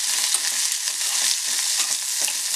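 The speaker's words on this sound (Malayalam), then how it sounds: "കനം കുറച്ച് നീളത്തിലരിഞ്ഞ സവാള, അതിട്ട് കൊടുക്കാം" Thinly sliced onion and green chili fry in a hot pan for a vegetable paneer masala, a steady loud sizzle with faint stirring scrapes throughout and no talking.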